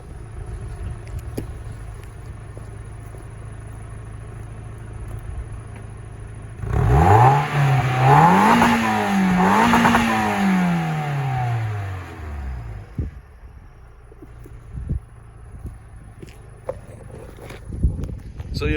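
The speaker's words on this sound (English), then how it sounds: "But just rev her up for you." A project car with a single exhaust tip revs up, the engine climbing and falling through a couple of throttle blips over several seconds before settling back to idle, loud and close, with quieter handling noises around it.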